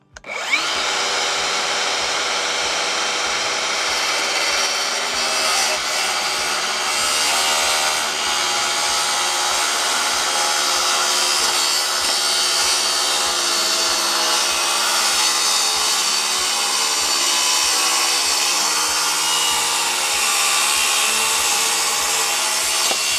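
A power saw cuts through a wooden ridge beam for an ATV carport, running loud and steady for the whole stretch with a continuous rasping whine and no talk.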